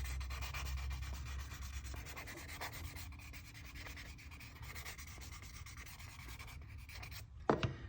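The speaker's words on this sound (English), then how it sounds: "Take my sandpaper." Leather is sanded lightly by hand with 800 grit sandpaper, producing a faint, soft, continuous scratchy rubbing heard close and alone, with a brief clack near the end.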